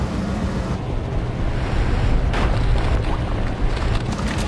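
Wind turbine in the video game TimeShift producing a loud, continuous rushing roar of wind, broad and steady with slight surges, heard alone without speech.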